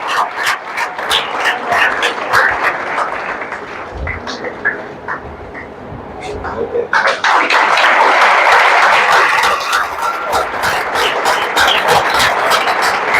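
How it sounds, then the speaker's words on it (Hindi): Loud, sustained applause from an audience at a career institute's final-selection ceremony, clapping throughout with a brief dip midway before swelling again, dense and continuous. "जोरदार तालियों के साथ।"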